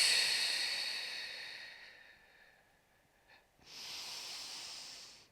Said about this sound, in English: Exhaling out through your mouth.